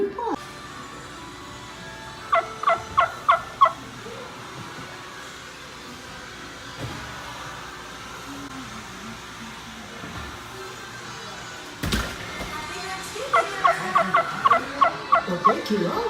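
Turkeys gobble at a theme park ride, two bursts of rapid rattling gobbles, one early and one near the end, over a steady mechanical hum with faint voices in the background.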